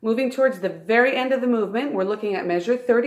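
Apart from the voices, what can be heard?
No everyday noises stand out.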